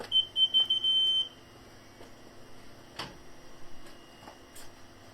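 An aftermarket parking sensor in a Fiat 500 in reverse sounds a rapid run of high, piercing beeps for about a second, then falls quiet amid faint clicks and low background hum.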